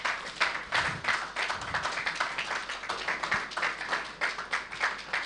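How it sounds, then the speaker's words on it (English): Applause at a Lagos town hall gathering, a crowd clapping in quick rhythmic pulses that rise and fall steadily, moderately loud and with no voices on top. "please can we have a massive round of applause"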